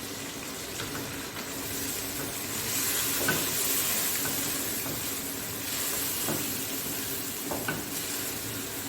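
Pre-boiled red cowpeas (lal lobia) cook in a pan with a soft, steady sizzle and hiss, faint stirring clicks scattered through, fairly quiet and free of talk.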